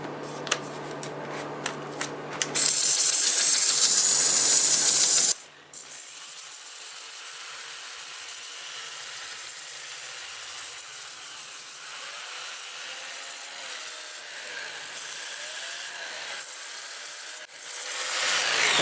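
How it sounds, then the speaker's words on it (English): Abrasive sanding against spinning maple burl wood on a lathe, a loud harsh burst early, then a steady lower grinding hum of the turning machine running on for many seconds. "I'll get my mask on and we'll start sanding."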